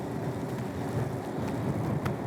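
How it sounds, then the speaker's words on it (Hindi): Steady rain hiss during a road ride, a broad even wash of drops at moderate level with a faint wind rush and no voices. "बारिश आ गई भाई."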